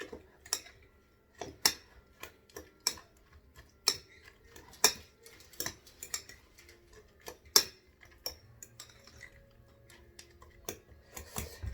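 A spoon clinks and taps against a bowl while egg salad with hard-boiled eggs and small bacon pieces is mixed, giving irregular light clicks spaced across the stretch in a quiet room.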